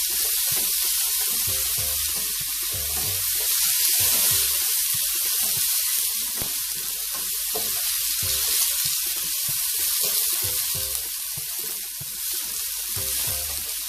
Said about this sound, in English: I'm just going to saute these.